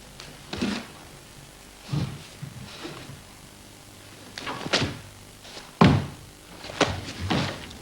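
A karate bo staff strikes in a series of about eight dull wooden thunks at irregular intervals, moderately close and fairly loud, with no talking.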